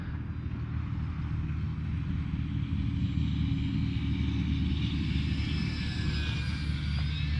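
An E-flite RV-7 RC airplane passes slowly with its landing flaps down, giving a steady, fairly loud electric drone that holds evenly throughout with a faint rising whine near the end.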